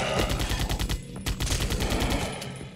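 Rapid automatic bursts from the LP11A gun in the shooter game Vivisector, dense, loud and repeating, with a brief break in the middle before the fire continues and trails off.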